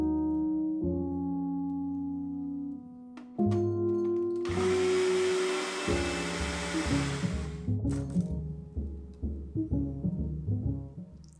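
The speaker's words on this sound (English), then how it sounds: "using a blender helps it dissolve faster" Countertop blender whirring as it dissolves sugar into water for a gum syrup, starting with pitched motor hum, surging into a loud grinding whirr, then slowing with uneven pulses before stopping.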